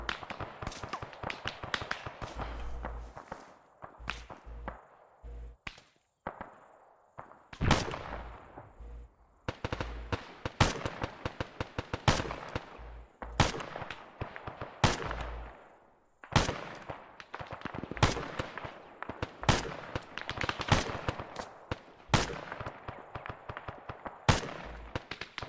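Rapid gunfire fills a tense Arma 3 co-op firefight on Altis, with dense bursts of automatic fire and sharp single shots cracking nearly nonstop, some close and loud, others more distant.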